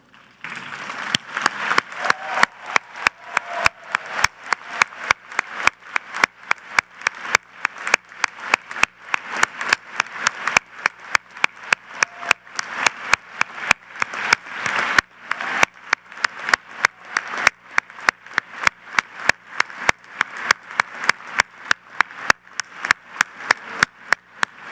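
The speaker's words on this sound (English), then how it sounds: "stand, turn, and face the audience and applaud families, friends, and supporters who sacrificed in many ways to make your time at Yale SOM possible" Graduates at the Yale School of Management Class of 2022 diploma ceremony applaud their families and supporters, with sustained, dense clapping from a large crowd and rhythmic claps standing out clearly throughout, loud and without talk.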